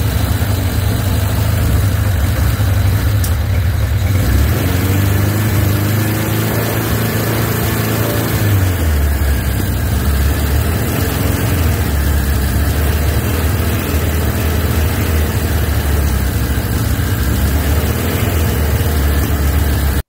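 A Suzuki GS1000 motorcycle engine, pulled apart for a cafe racer build, runs steadily and loud for the whole stretch, with a deep idle that rises briefly in pitch before settling back to a low, even rumble.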